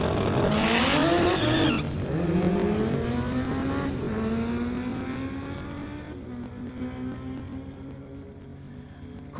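Corey Craig's Hayabusa street-legal drag bike does a burnout at the drag strip start line, a loud, sustained engine roar with rising and falling revs and tire squeal, fading slightly toward the end.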